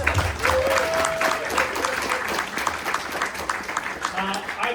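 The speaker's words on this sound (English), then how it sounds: "So let's give her a round of applause." A crowd at a civic event for a new mayor applauds for a councilmember, a full round of clapping with cheers and voices mixed in, loud and continuous throughout.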